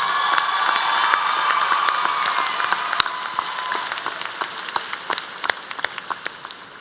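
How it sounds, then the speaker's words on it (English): Graduates at a university spring commencement ceremony clap for their loved ones, a broad wash of applause and some cheering that thins out into scattered, distinct claps near the end. "Graduates, let's give your loved ones a big round of applause."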